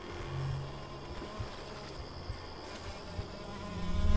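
Mosquito buzzing in the horror video game Sign of Silence, a thin steady whine hovering close, with soft low thumps underneath and a swelling rumble at the end, no voices.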